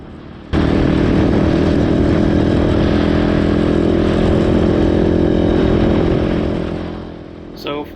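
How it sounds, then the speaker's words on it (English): Brand new Kove 450 Rally motorcycle riding on a mountain road, a loud, steady engine drone that starts abruptly, holds, then fades near the end. "I'm riding my brand new Kove 450 Rally"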